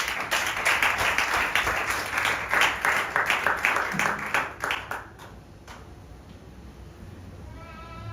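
A church congregation claps in rhythm, loud and close, for about five seconds before it fades to a quiet room with light murmuring.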